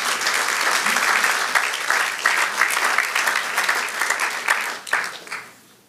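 A church congregation claps in sustained applause, fairly close and full, holding steady before tapering off and fading out near the end.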